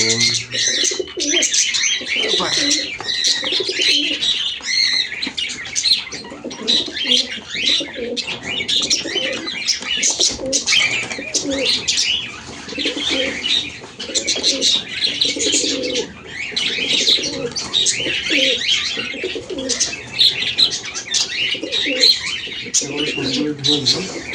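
Pigeons coo and chirp steadily, with occasional bursts of wing flapping, as they are caught one by one and put into a bag at a pigeon loft. Dense, continuous and close, with faint voices beneath.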